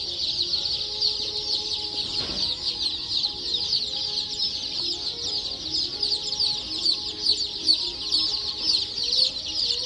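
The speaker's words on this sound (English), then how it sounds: "The baby chickens." Baby chickens chirping nonstop in a dense, shrill chorus of overlapping peeps, close and loud, with occasional soft clucks and a faint thump in the background, no voices.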